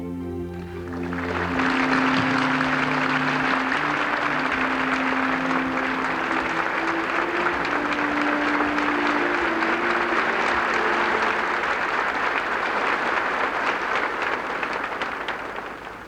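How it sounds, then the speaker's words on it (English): Warm, sustained applause from a large audience at a Bahá'í gathering, swelling in quickly and holding a dense, even roar of clapping throughout, with a low sustained musical tone underneath at the start. "your warm applause touches our hearts"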